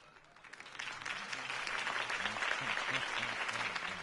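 Crowd applause for a political campaign speech in a Batman video game, a broad steady wash of clapping that swells after the first half second and holds loud and dense throughout, with faint low voices underneath.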